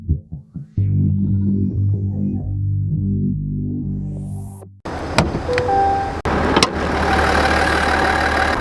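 A 3-liter turbo diesel engine in a 2026 GMC Yukon AT4 XL idles with a steady low rumble after a few short mechanical knocks, then a car door thuds and interior clicks and rattles follow nearby.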